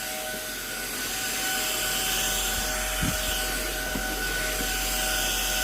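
A vacuum cleaner with a small brush head and LED lights drones in a steady, continuous whine, with a few faint knocks of the brush against surfaces and no speech.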